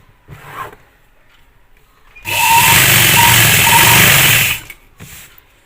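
Sewing machine stitching the edge of a straight-cut pant, one continuous loud whirring run of about two seconds between quiet handling noises.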